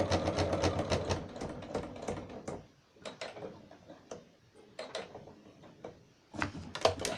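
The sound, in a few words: sewing machine stitching makeup bag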